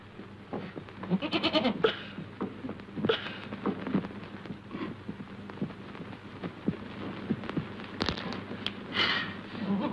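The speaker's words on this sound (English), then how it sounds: "a very wild goat, isn't she?" Several goat bleats ring out in a noisy outdoor setting, scattered across the stretch, some nearer and louder, with faint background voices.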